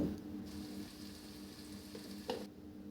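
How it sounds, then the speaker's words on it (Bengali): Ginger garlic paste with spices fries in a pan for a rainy-day khichuri, a soft, steady sizzle close by with a brief stir scrape near the end and no voices. "কিছুক্ষণ ভাজার পর আমি আদা রসুন বাটা দিয়ে দিলাম এখন ভালোভাবে মিশিয়ে নেব"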